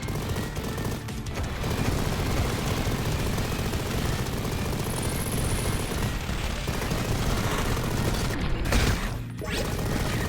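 Rapid machine gun fire in Mighty Goose, a thick, unbroken roar of shots and explosions at steady loudness with barely a pause throughout.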